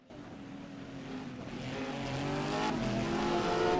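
A Porsche GT3 race car in rFactor 2 approaches with a rising engine drone that swells steadily louder. A second engine tone layers in as it nears, with no voices.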